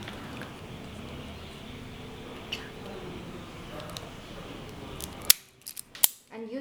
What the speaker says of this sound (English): Use the stripper to peel the cable.